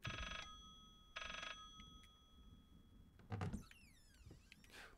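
A hidden telephone rings in a secret room in the horror game Layers of Fear Legacy: two short, bright bell bursts, fairly quiet, followed by faint scraping and shifting noises with no voices.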